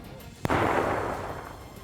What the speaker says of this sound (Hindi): इस दौरान वहां एक के बाद एक कई धमाके हुए और काले धुएं का गुबार ऊपर उठता दिखाई दिया।